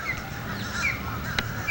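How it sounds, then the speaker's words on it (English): A flock of birds flies past honking, a few brief, goose-like calls sounding over a low background hum, moderately distant and fairly faint. "we just got a whole bunch of birds fly by"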